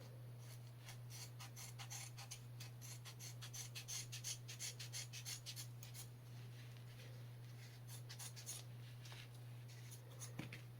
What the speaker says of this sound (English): I'm going to do a few cuts on each seat belt with one set of trauma shears